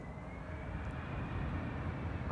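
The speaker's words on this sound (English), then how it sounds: "Briefly heard the reverser spool up and then they slowed down again" Delta Airlines jet landing on a runway after a flight from Atlanta, its thrust reverser spooling up briefly into a steady broad engine roar, moderately distant and fairly even over a couple of seconds.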